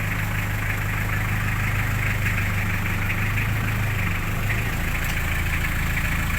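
A car engine idles smoothly and steadily after a clutch replacement, a continuous close low hum with no shaking, in rainy weather.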